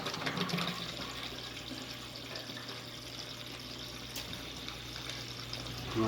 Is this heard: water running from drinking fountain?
yes